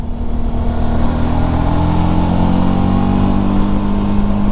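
A Suzuki V-Strom 1000 motorcycle engine drones loud and steady at close range while riding through Ecuador, a sustained hum with no clear rise or fall in pitch.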